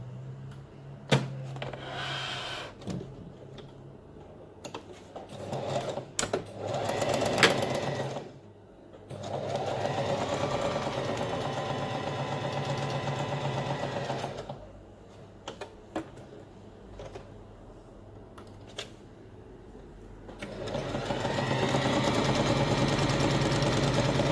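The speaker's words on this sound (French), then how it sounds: "Nous allons faire une couture de part et d'autre et laisser une ouverture en plein centre." Sewing machine stitching a seam on a fabric headscarf, one centimetre from the edge, running in steady buzzing bursts with short pauses and handling clicks between runs.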